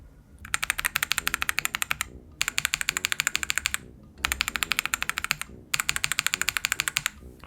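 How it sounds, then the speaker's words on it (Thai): Rapid clacky keystrokes on an Ajazz AK75Pro mechanical keyboard with keycaps fitted come in four bursts separated by brief pauses, crisp and close-up with no talking. "เดี๋ยวเรามาลองใส่คีย์แคปแล้วก็ลองกดกันอีกทีหนึ่ง"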